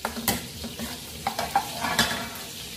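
Galunggong fish fries in a pan with soft sizzling beneath scattered light clinks and scrapes of a utensil, fairly quiet with no talk.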